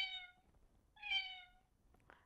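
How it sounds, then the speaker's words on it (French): Two clear recorded cat meows played from a children's audio book reader, each rising and falling, separated by a short pause, followed by a faint brief sound; quiet and close. "Par exemple, ici le chat"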